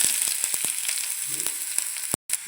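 Hot oil frying in a pan for potato mezhukkupuratti, a soft, steady sizzle with a few sharp crackles and brief clicks, close and alone without talk.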